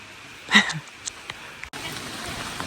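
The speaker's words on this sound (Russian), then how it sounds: "Но сегодня идет настоящий финский дождь, северный дождь." Steady rain hissing on surfaces in a park in Spain, with a brief sharper sound early on before the even patter continues.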